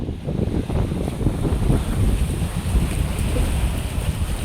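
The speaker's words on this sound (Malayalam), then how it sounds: "നല്ല കാറ്റ് ഇവിടുന്ന് അടിക്കുന്നുണ്ടേ." Strong wind blows across a backwater in Perumbalam village, Alappuzha, a steady loud rush and buffeting roar against the microphone with a wash of water beneath, continuous for the whole stretch and with no voices.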